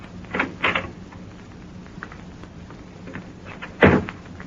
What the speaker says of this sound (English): Now, open that door.